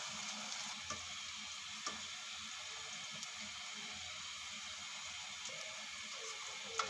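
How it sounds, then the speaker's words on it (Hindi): Okra pieces frying in ghee in a pan give a steady, even hiss and sizzle throughout, with a few faint pops over the constant crackle. "घी में फ्राई करेंगे"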